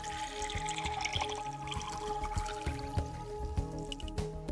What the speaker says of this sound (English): Add a small amount of distilled water to it.